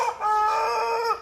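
A one-year-old West Godavari fighting rooster, about 3.5 kg, gives a single loud, sustained crow close by, clear and alone.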